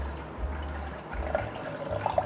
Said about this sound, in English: then you will need to add in water